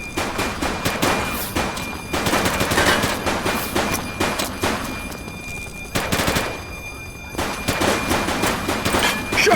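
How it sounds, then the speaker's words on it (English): Heavy automatic gunfire from the police game The Precinct rattles close and loud in repeated bursts, broken by brief pauses and scattered single shots. "He's shooting!"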